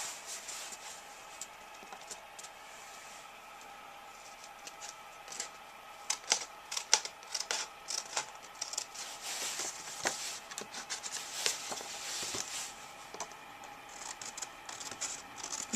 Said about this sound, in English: sometimes I get this little lip, and so I just kind of trim it down